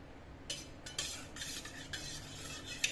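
A spoon stirring milk mixed with a little curd starter in a pot or bowl to set homemade yogurt, giving several soft scraping swirls and light metallic clinks, close by, with no talk.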